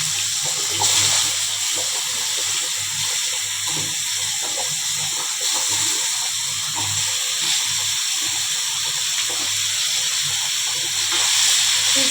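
Chopped potato and pumpkin cooking in hot tempering oil, a loud, steady, hissing sizzle with a low hum underneath, unbroken and without talk.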